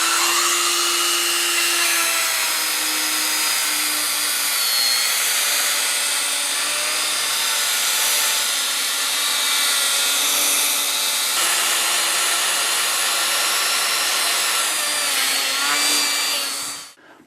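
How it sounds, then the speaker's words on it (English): A Dremel rotary tool fitted with a felt tip polishes a Mercedes-Benz W140 S-Class wheel, giving a continuous high-pitched whine that shifts slightly in pitch, loud and close, before stopping abruptly at the end. "So I have this Dremel tool, and I have various sizes of felt tips."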